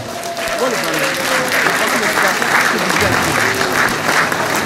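A crowd at a political investiture ceremony for a party's France representation applauds its president loudly and continuously, with voices and murmured talk running over the dense clapping.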